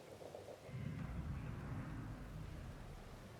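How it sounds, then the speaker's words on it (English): Rain falls in the video game Marathon as a steady, faint wash of noise over a low rumble, with no voices. "I think it's the raindrops."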